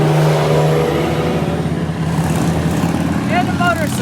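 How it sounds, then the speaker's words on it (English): A truck drives past in front yards, a loud broad rumble that swells and slowly fades over a few seconds, with a person talking briefly near the end. "I'm gonna wait for the truck to go by"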